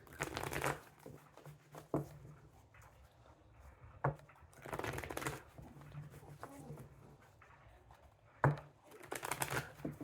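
Tarot cards being shuffled in several short riffling bursts, quiet and close, separated by pauses with faint room noise.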